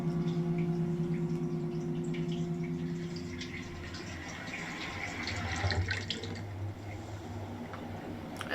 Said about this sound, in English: I can hear the tap water now.